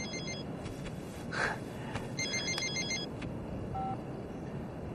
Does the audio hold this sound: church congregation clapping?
no